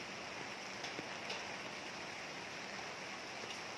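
Rain falls steadily during flooding in Pontianak, a dense, even hiss of drops on surfaces with a few faint splashes, fairly quiet and continuous with no voices.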